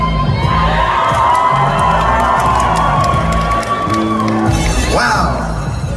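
Loud crowd noise fills a Comic Con convention hall in Manchester, with cheering, shouting and children's voices sustained throughout, close and dense, along with nearby talk.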